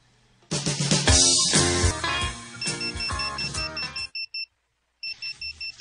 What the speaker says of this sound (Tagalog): May alarm man niya akong cellphone.